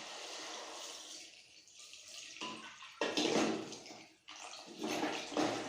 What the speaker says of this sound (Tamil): இப்போ தண்ணி ஊற்றி சேர்த்துக்கலாம்.